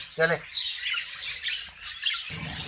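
Budgies in a breeding cage squawk and chirp continuously, shrill overlapping calls close by, with a short voice at the start and another near the end.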